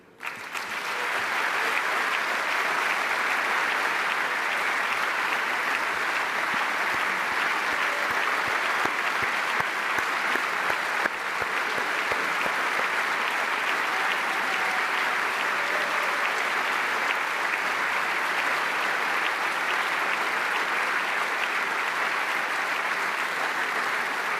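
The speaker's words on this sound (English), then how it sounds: "Listen to these applauds and never forget it." A large audience at a European socialist party congress in Rome applauds continuously, a sustained, even roar of clapping heard from within the hall for a long stretch.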